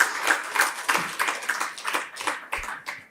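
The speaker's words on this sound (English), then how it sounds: "Can we please have a huge round of applause?" Audience applause at a program on feedstock and sugar conversion, heard as a modest round of scattered hand claps with regular peaks, fairly close and steady for about three seconds with no talking over it.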